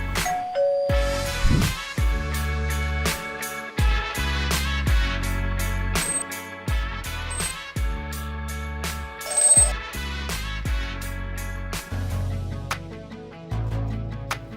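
A series of bright electronic doorbell chimes from an Oob Automations touch panel bell switch in a smart home villa, ringing out one after another with short pauses, clear and close.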